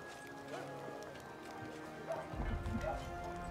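Horse hooves clip-clop in the fantasy RPG Pathfinder: Wrath of the Righteous, a clattering gallop that swells louder in the last second over a low game ambience.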